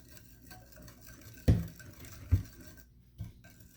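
Cassava cake batter with eggs and cheese is stirred in a bowl, giving soft swishing under a few sharp knocks of the utensil against the side, close and fairly quiet with no talk.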